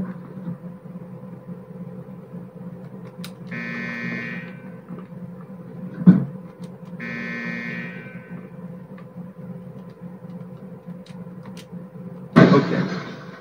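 In the video game Die Hard: Vendetta, a bomb goes off when its timer runs out: repeated electronic beeping tones, then a sudden loud broadband blast at the very end over a steady low hum.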